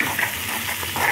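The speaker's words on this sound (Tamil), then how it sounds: "அதனால் அதை எடுத்து இதில் போட்டு இதை பாருங்க வதக்கின்னு இருக்கேன்." Green chillies sauté in hot oil with tempered mustard seeds, a steady close sizzle and frying hiss that continues without talk.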